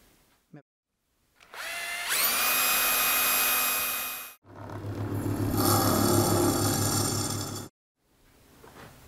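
A power drill spotting holes through a steel plate on a shopmade welding rotator, with two loud sustained whining bursts separated by a short pause, close up and alone.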